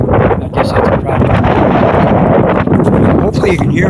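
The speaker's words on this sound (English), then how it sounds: "It's windy out all of a sudden." Strong wind buffets the microphone outdoors along a riverside park walk, a loud continuous roaring rumble with gusty surges throughout, with a voice partly audible beneath it.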